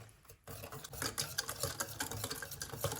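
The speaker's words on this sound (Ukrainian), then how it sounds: "Тепер беремо вінчик наш і гарненько це все змішуємо для того, щоб не було комочків" Whisk beating a no-bake dessert mixture in a bowl to smooth out lumps, a quick run of close scraping, clicking strokes that starts after a short pause, no talking.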